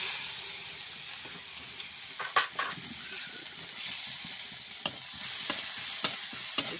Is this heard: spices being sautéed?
yes